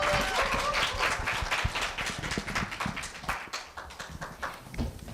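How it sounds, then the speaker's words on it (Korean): Audience clapping at a middle-school speaking festival as a student is welcomed to the stage, loud at first and thinning into scattered, uneven claps as it dies down. "다시 한번 큰 박수 부탁드립니다"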